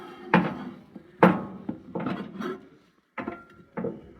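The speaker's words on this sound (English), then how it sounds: "So we're gonna take it out, mix it up, make sure the butter gets mixed in." A spoon works through microwave-melted marshmallows and butter in a bowl for cereal crispy treats, giving a few close, separate scraping and knocking strokes with short pauses between them.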